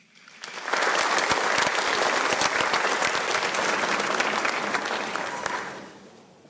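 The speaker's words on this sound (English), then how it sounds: "Shall we appreciate him with another round of applause?" Lecture audience applauding at an honorific lecture in Ghana, a dense, steady burst of many hands clapping that swells in, holds for several seconds and then tapers away.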